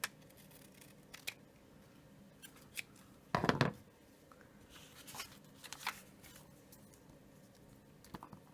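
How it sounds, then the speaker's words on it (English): Scissors snipping a paper tab off a small handmade tin-box mini book, heard as a few sharp, close clicks with one longer crunching cut in the middle and faint handling noises between. "I'm going to go ahead and cut this tab off"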